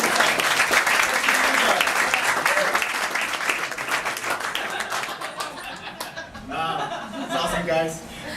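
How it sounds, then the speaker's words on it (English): A crowd claps loudly and steadily, the applause fading gradually, with scattered chuckles and voices as it dies down. "give yourselves a big round of applause"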